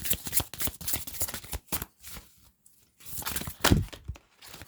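Tarot cards being shuffled by hand in a string of quick riffling, flicking bursts with short pauses between them, close and fairly quiet.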